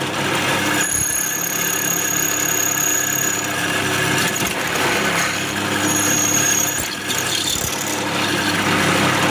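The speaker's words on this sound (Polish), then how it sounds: "Wiertło przechodzi na wylot." A power drill bit grinds steadily through two steel files, a continuous whirring motor with harsh scraping, briefly easing off twice before resuming.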